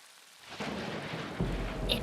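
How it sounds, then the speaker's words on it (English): Cartoon thunderstorm with steady rain hiss that builds from near silence, joined by low rumbling thunder swells, moderately loud and without talk. "It was a dark and stormy day."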